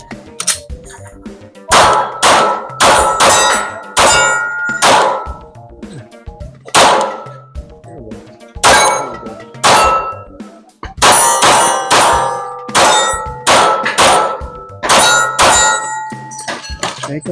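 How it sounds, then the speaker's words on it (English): Rifle rounds from an AR-15 striking steel gong targets at a shooting range, producing a series of sharp metallic clangs and ringing dings in irregular bursts, loud and close, with brief decaying tones between hits. "Fun gongs."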